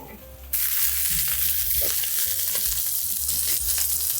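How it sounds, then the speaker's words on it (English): Garlic parmesan chicken wings crackle and sizzle steadily while baking in an oven, a dense close-up hiss with small pops and no talking. "You can hear how crackly and crispy these things are getting."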